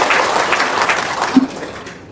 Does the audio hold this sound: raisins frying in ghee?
no